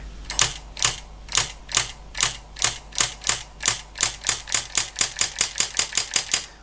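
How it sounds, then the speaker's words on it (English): Olympia ESW 100 electric typewriter under repair, its keys pressed repeatedly to drive the tape spool: a steady run of sharp mechanical clacks over a low motor hum, speeding up toward the end, close and without talk. "So I'm going to press the key, be a noise of course."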